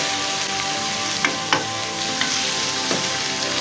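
Keema sizzles steadily in a pan while garam masala is stirred in, with a few soft spoon scrapes and clicks over the constant frying hiss.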